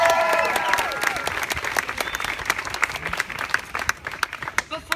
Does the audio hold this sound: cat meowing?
no